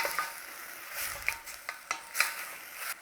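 Apples and sugar cooking in a pan, a soft sizzle under repeated spoon scrapes and taps from stirring, fairly quiet and close, with no voices.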